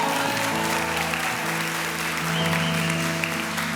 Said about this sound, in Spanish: le damos un fuerte aplauso al Rey de Reyes y Señor de Señores